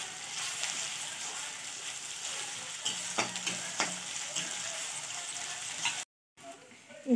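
Ginger garlic paste fries in a pan for a Rajasthani shev bhaji, giving a steady close sizzle with a few stirring scrapes partway through and a brief cut near the end.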